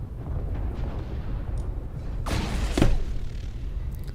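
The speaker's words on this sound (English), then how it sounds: "Artillery strike online." Artillery strike in the video game MechWarrior Online: a pair of heavy booming impacts land about half a second apart over a steady low rumble of battle noise, moderately loud with no talk.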